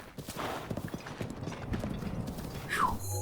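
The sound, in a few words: horse hooves clip-clopping in Breath of the Wild video game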